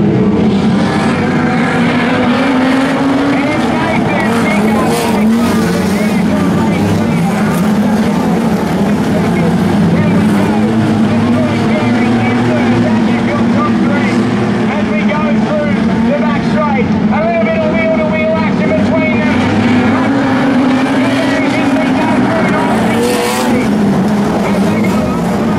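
Race cars roar around Gilgandra Speedway in a loud, continuous engine drone that rises and falls as they lap close by, with a commentator talking over it.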